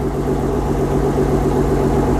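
Car engine idling steadily after an apparent idling fault, a loud, close, continuous low rumble with no revving and no voices.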